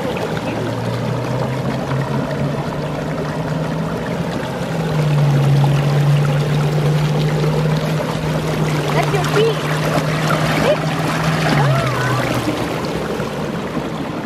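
A waterfall gives a steady rushing stream of falling water with a constant low hum, continuous and fairly loud throughout.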